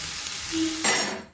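Cauliflower fries lightly in oil in a pan, a brief, bright hiss that swells suddenly near the end, with a short tonal squeak before it and no talk.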